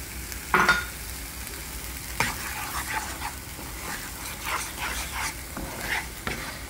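Masala with green chili paste and a little water being sautéed in a pan for plantain malai kofta, giving a soft sizzle with repeated scraping stirs and sharp clinks of a spoon on the pan.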